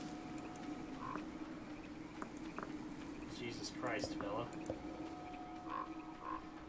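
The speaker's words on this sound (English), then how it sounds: "this is a frog" Frog croaks from the game Tiny Echo, a short warbling burst of croaks sounding twice over a steady ambient hum, with someone talking over the scene.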